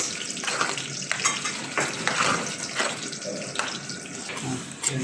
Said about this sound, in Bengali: আর টুনা মাছ তো কষানো হয়ে গেছে, এখন আমি টুনা দিয়ে দিচ্ছি